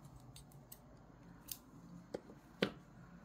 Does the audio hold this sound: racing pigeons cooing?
no